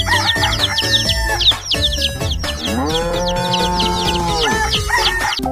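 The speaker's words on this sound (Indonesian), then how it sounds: "Ada ayam jago." A rooster crows loudly and close by, one long drawn-out call with clucking fowl around it, in a children's toy-truck animal game.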